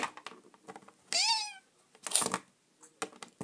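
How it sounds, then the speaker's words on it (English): Cat giving a single clear meow in an animated Littlest Pet Shop episode, rising and falling, with scattered soft rustles and taps before and after. "Stupid cat."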